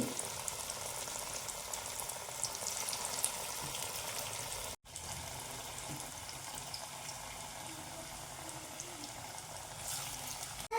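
Pakoras made with bay leaves frying in hot oil, giving a dense, steady bubbling sizzle that runs the whole way with only a brief break.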